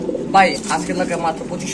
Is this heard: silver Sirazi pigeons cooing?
yes